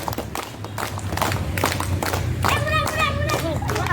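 Elementary school scouts clap in a rhythmic clapping game led by a leader, with sharp hand claps in quick patterned bursts at close range, mixed with children's voices and shuffling.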